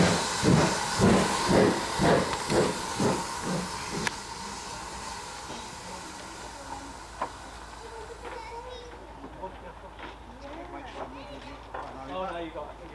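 A steam train on the East Somerset Railway at Cranmore hisses loudly with rhythmic chuffing bursts over the first few seconds, then settles into a softer steady hiss while people talk nearby.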